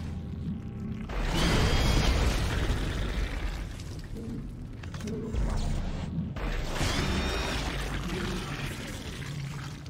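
Explosive blasts from an enemy in Dead Space 2, two loud, sustained roaring bursts of rumbling debris and mechanical grinding, each swelling then slowly fading against a dark ambient background.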